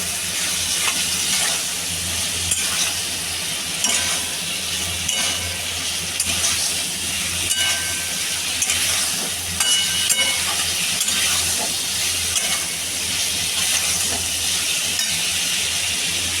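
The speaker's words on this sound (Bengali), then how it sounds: "এবার মা এটাকে কষিয়ে রান্না করছে" Chopped banana flower (mocha) for a Bengali vegetarian ghonto sautés in a pan, giving a steady, dense sizzle with soft scraping stir strokes throughout and no voices.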